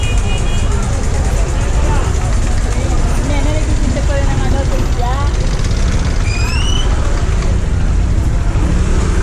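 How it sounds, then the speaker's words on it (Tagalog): Street traffic noise in a busy market area, a dense, loud roar of passing cars, buses and trucks with scattered horn-like tones and voices talking throughout. "Traffic."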